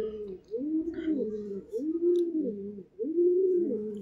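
A white male Madras pigeon coos in repeated rolling, throaty phrases, close and fairly loud, three cooing bouts with short pauses, no one talking.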